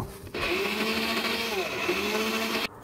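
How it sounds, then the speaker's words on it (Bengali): An electric kitchen grinder whirs loudly and steadily for about two seconds, blending roasted ingredients into a paste, then cuts off abruptly. "তারপরে এটা গ্রাইন্ডারে পেস্ট করে নেব।"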